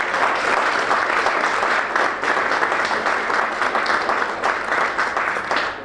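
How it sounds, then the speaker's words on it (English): A dinner crowd at a motorsport awards night in Ireland gives a big round of applause, dense steady clapping from many hands lasting several seconds, loud and unbroken. "So a big round of applause for those guys."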